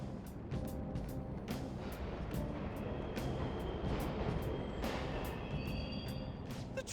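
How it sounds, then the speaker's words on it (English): Subway trains running in the video game Persona 5 Royal, a continuous low rumbling roar with faint metallic clicks and a rising whine near the end, heard on its own without talk. "The trains are totally running!"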